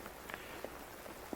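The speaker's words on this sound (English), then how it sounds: "It's starting to rain a little harder." Rain falls outdoors with growing strength, a steady close hiss of drops on surfaces with a few sharper individual drips and no talk.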